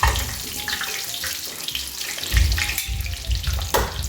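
A breaded mozzarella stick frying in a pan over lower heat, a steady close sizzle and crackle with bursts of hissing and spattering.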